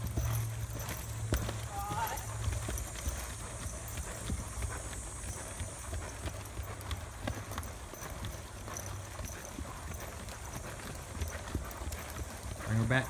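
A horse trots under a riding lesson, its hooves clip-clopping in a steady, moderately close rhythm for the whole stretch while a voice speaks over it.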